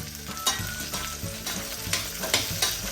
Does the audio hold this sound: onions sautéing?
yes